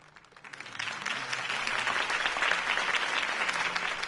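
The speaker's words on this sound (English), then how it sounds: "If only Mr. Wayne, my campaign's largest backer, could have heard that applause" A crowd applauds after a campaign speech in the Batman: The Telltale Series video game, with dense clapping that swells after a quiet start and holds loud and steady.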